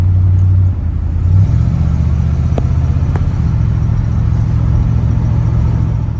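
A restored 1976 Chevrolet Scottsdale C10 pickup engine hums steadily at a low pitch with a constant road rumble, close and loud throughout, cruising at steady speed.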